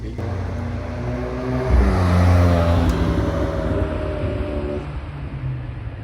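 Porsche sports car engine at a Porsche Casting gathering in Deauville, a steady loud engine tone with harmonic drone rising into a brief rev swell, then holding and fading, with voices faintly in the background.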